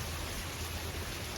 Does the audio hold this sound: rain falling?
yes